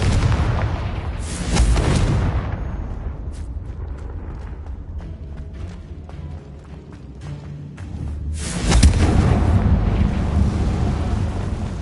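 Confringo blasting spell in Hogwarts Legacy: two loud, booming explosions several seconds apart, each followed by a rushing, rumbling roar that fades, with no talking.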